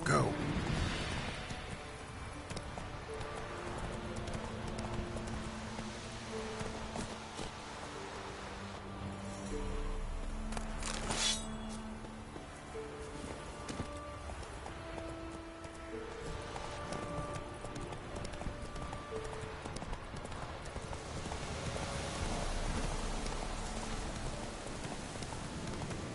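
Roach the horse galloping in The Witcher 3, with a steady clip-clop of hooves over soft rain and ambient game music.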